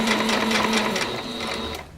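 A sewing machine back stitches through jelly tape, a steady close whirring hum running almost unbroken for about two seconds before easing off at the end.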